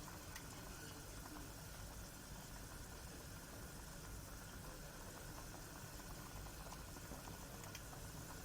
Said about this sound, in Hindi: 5 मिनट हो गए हमारे चिकन को पकते हुए